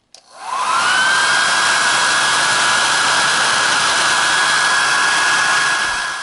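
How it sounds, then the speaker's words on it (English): Hair dryer running on its hot setting, switching on and spinning up within the first second, then a loud, steady close-up blowing whoosh with a constant whine that holds to the end. "I have the dryer right here. I'm going to turn it on to hot"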